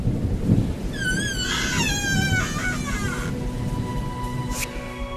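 Low thunder rumbles through a stormy night scene with rain, a deep continuous roll beneath a meowing cat that cries several times in the middle, in a horror story told as a narration.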